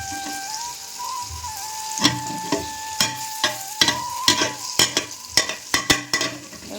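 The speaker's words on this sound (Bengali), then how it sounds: "এদিকে আমি সিমটা বসিয়েছি, একটু লবণ দিয়ে ভেজে নেবো" Flat beans with salt fry in a pan, a close sizzle broken by sharp clattering stirs that repeat in an uneven rhythm, with a thin whistling tone running underneath.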